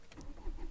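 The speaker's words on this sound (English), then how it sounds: "You put the key in there and it fires up" A 2004 Renault Laguna II engine is started with the key, giving a very brief cranking burst that catches into a low idle rumble, close and moderately loud.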